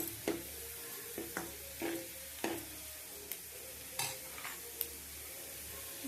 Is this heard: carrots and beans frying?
yes